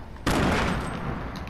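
A sudden burst of gunfire in a shooting video game, loud and dense, with a rapid spray of shots that tails off over about a second.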